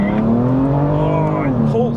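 A tuned BMW M2 Competition launching hard off the line during a 0-60 run, its engine loud and close with steady rising revs throughout.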